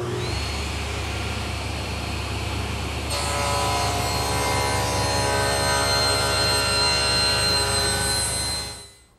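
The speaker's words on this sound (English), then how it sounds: "The next step is to rip these pieces into quarter-inch strips." Table saw ripping wood pieces into quarter-inch strips, its motor humming steadily before the blade bites in with a sustained, rising whine and then winds down.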